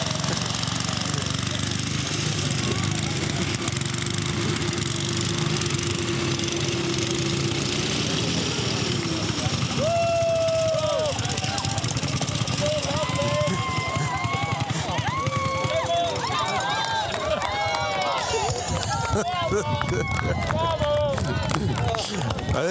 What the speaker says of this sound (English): The house lawnmower and the Anzani neck and neck here, but the line's moving.